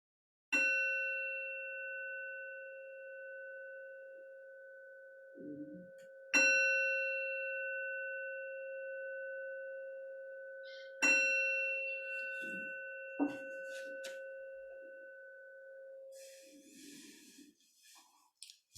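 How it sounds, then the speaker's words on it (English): A meditation bell struck four times, each strike a clear ringing tone with long sustained decay, spaced several seconds apart, the later strikes overlapping as the tones fade, with faint handling clicks between. "I'm going to ring a bell at the start of the meditation."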